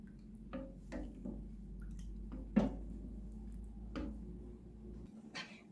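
9% vinegar is poured into warm milk and stirred three or four times, giving quiet, close liquid drips and splashes with a few soft clinks against the pot.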